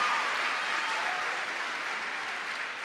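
An audience applauding after a motivational talk, a dense, steady wash of many hands clapping at once that holds evenly throughout, sounding full and close with no voices over it.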